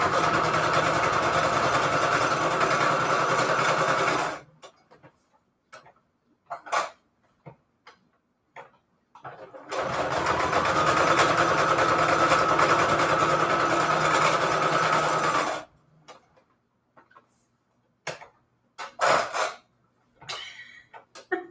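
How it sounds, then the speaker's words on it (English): A sewing machine with a noisy bobbin runs in two loud, steady bursts of whirring stitching, separated by quiet stretches of scattered clicks and handling sounds. "That bobbin sounds terrible."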